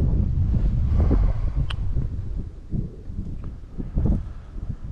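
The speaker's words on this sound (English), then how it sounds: "Well, it's kind of windy. Like really, really windy out." Strong wind roars and buffets the microphone with loud low rumbling gusts, easing slightly partway through, with no voices.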